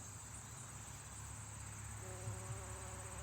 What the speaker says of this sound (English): There's a bee pollinating a clover flower.